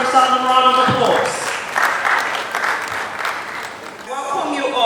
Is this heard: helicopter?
no